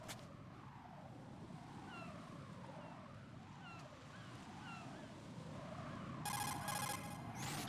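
A cell phone rings in Metal Gear Solid 2, a steady warbling tone repeating over a dense ambient game background, with a sharper electronic burst near the end.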